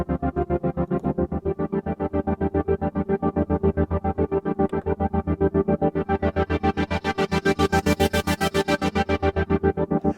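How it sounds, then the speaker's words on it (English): Roland FA-08 88-key workstation keyboard playing a steady pulsing, chopped synth pattern with a sweeping flanger effect that rises into a bright whoosh near the end, loud and rhythmic, with no voices. "And a flange."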